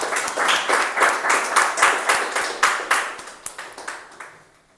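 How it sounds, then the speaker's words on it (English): A round of applause at a Toastmasters meeting, many hands clapping in a quick, close rhythm that holds steady and then thins out and fades to a few last claps. "let's have a huge round of applause once for ourselves."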